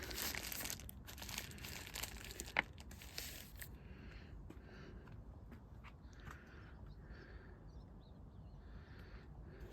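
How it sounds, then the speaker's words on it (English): Plastic carrier bags being wrapped around the electrics of an e-bike on a stand, giving a burst of close crinkling and rustling for the first few seconds, then only faint scattered rustles over a quiet background. "Just wrap 2 plastic bags"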